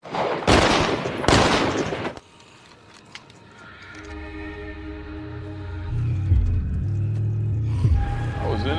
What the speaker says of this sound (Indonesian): Rick beserta pasukan yang telah tiba di markas besar Savior pun langsung melepaskan tembakan untuk memancing Negan keluar kandang.